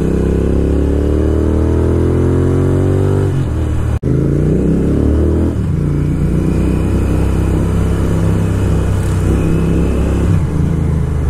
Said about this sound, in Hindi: बट इसको क्या पता कि ये हमारी GT 650 की आवाज है